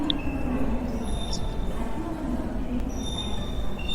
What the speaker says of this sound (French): Sans attendre, le métro redémarre,